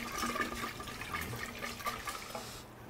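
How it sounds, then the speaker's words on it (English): Fermented pineapple cayenne hot sauce mash is stirred with wet, sloshing, squelching churning sounds, close and continuous, fading slightly at the end. "Give this a nice stir."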